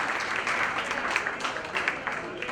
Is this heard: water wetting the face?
no